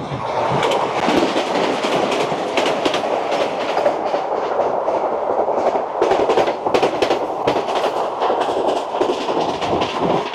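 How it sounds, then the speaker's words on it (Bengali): Vande Bharat Express train 22304 from Gaya to Howrah rumbles past steadily for about ten seconds, a dense, loud roar of wheels and carriages with clicking rail joints near Gomoh Junction, no voices. "আর ওদিক থেকে দেয়া আসছে ট্রেন নাম্বার 22304 গয়া থেকে হাওড়া"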